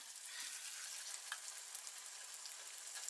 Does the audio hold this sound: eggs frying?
yes